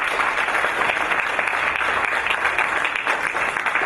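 A church congregation at a Sunday worship service claps steadily, a dense, even applause that fills the room without pause for a few seconds.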